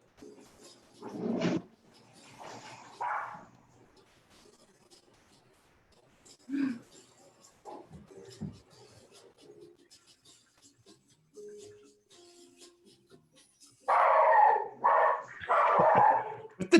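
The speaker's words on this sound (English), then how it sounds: "With the dogs in the background." Dogs bark intermittently in the background of an indoor room, scattered yips and woofs, some whimpers, rising into a louder cluster of barking near the end.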